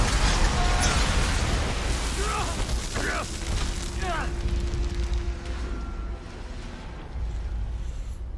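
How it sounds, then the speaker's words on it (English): A Mass Effect core explodes in the video game Mass Effect Legendary Edition, a loud sustained roaring blast with mechanical rumble and bursts of crackling debris, and dialogue runs over it. "That's the explosion of a Mass Effect core."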